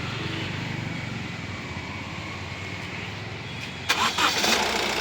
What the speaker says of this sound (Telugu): ఒకసారి మళ్ళీ స్టార్ట్ చేస్తున్నాను చూడండి అన్న ఇంజిన్.